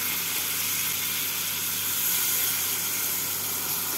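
A splash of water hits pointed gourd pieces cooking in a spice masala for doi potol, setting off a steady, close broadband sizzle and hiss that holds evenly for the whole moment, with no voices.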